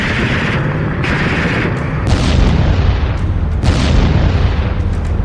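Heavy booming blasts from a missile attack on Donetsk, Ukraine, loud and rumbling, with a few sharp impacts rolling over a dense, continuous low roar.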